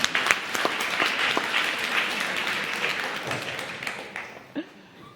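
Audience at an International Women's Day panel discussion applauding panelists; a full round of steady clapping that gradually fades, ending with a few scattered claps.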